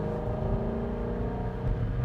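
A 2016 Ford Mustang GT350 with sport exhaust idles with a low, steady, rumbling purr, close and continuous throughout, with no talk over it.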